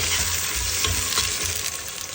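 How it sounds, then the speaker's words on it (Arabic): Onions fry in a pan for an Algerian winter dish, a loud, close, continuous sizzle with occasional scraping stirs and no talk. "هنايا نقليو البصل حتى يذبل"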